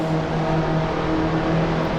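A race car engine drones steadily in Assetto Corsa at the fog-covered Nürburgring, with a sustained, even tonal hum as the driver eases off the throttle into a corner, no clear braking sound standing out.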